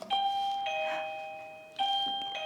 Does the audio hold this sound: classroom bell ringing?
yes